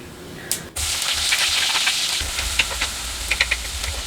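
Garlic and sliced onion frying in a pan for aloo palak, with a sudden loud sizzle as they hit the hot oil, followed by steady hissing and faint stirring clicks.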